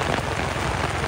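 Heavy rain pouring down during a flood, a loud, dense, unbroken roar of drops hitting surfaces, close and steady throughout.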